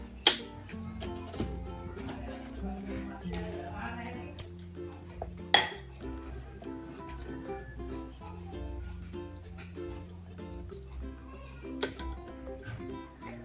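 Biscuit pudding ingredients are mixed in a bowl, giving repeated clinks and scrapes of a utensil against the dish in a steady, fairly close rhythm with one sharper knock midway.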